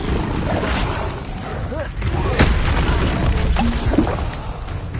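A fire spell is cast during combat in Hogwarts Legacy, heard as dense booming blasts and whooshing magical effects that fill the whole stretch, with voices mixed into the game noise.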